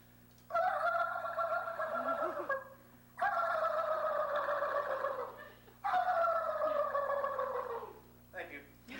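A person imitates a turkey gobble, producing three long, warbling gargled calls separated by short pauses, moderately loud with a faint hum underneath.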